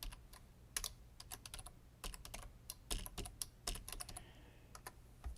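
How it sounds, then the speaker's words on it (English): Fingers tap out a message on a computer keyboard, a close, quiet run of quick irregular keystrokes with brief pauses and no voices. "I'm going to type it in the chat right now."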